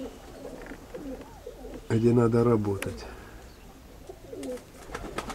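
Pigeons in a rooftop pigeon loft coo in a loud, close burst of throaty calls, with quieter bird sounds and a man's brief speech around them.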